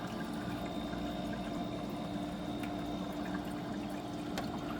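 A portable ice maker machine runs with a steady mechanical hum, while water trickles and pours inside it at a constant level, close and moderately loud.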